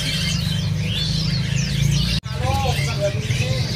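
Caged songbirds at a bird market kiosk chirp and whistle in quick, repeated sweeping calls over a steady low drone and faint background murmur, with a brief dropout midway.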